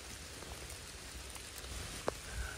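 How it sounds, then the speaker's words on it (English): Rain falls in woodland as a soft, steady hiss of patter on leaves and ground, faint and continuous, with one brief sharp tap near the end. "Oh, the rain is coming down."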